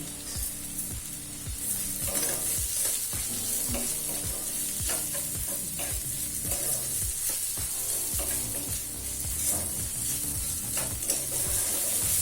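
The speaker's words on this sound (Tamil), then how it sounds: "இப்போ தக்காளி நல்லா வதங்கிடுச்சுங்க" Tomatoes stirred and sautéed in a pan while cooking mint pulao, with steady loud sizzling and repeated scraping strokes of a spoon against the pan throughout, no talking.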